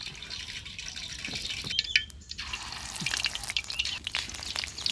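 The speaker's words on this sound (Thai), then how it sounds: "เตรียมทอดกันนะ เราให้กระทะมันร้อนก่อน" Steady crackling sizzle of pork patties deep-frying in hot oil in a pan, with occasional pops and drips, fairly close and continuous throughout with no talking.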